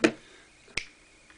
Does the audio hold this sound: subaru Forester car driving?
no